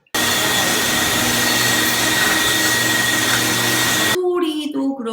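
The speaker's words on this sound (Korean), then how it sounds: "저 바닥이 철거되는 시간 내내 저런 소리가 나요" Loud continuous grinding roar of floor demolition during an apartment interior renovation, a dense steady machine noise lasting about four seconds before cutting off abruptly, followed by a brief voice speaking.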